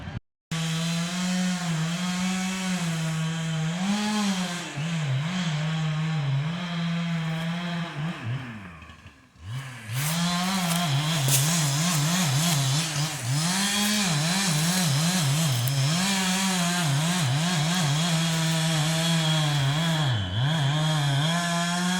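A Husqvarna chainsaw rips through timber at a logging harvest, engine screaming at high revs with wavering pitch as it bites, dipping briefly midway before revving hard again; loud, close and continuous with no talking.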